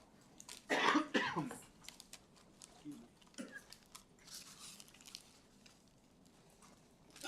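A person coughs hard a few times up close during a planning commission meeting, followed by quieter shuffling and faint background sounds.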